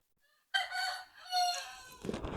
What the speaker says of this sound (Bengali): মুরগি ডাকে